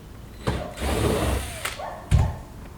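Screws are removed from the rear half of a Toyota 4Runner center console with a power driver in several short whirring bursts, close and fairly quiet, separated by brief pauses.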